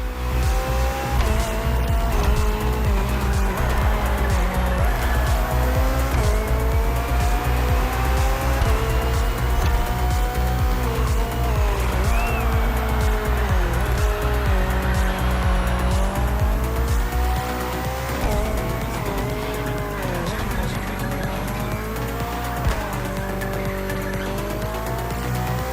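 A hybrid V8 race car from The Crew Motorfest roars continuously through a race, its engine pitch rising and falling through gear changes while the tires squeal and skid. The sound is loud and sustained, with no voices over it.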